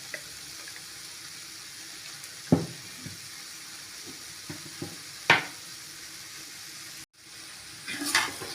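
Quiet sizzling of cabbage and beans frying in a pan with ground coconut, a few scattered scrapes and clinks of stirring, then a brief louder burst of frying at the end.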